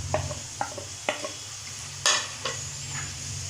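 Green peas roast in a pan with raisins, chaat masala and dry fruits over a constant sizzle, stirred with a spatula in rhythmic scrapes about every half second and one sharp metallic clatter midway.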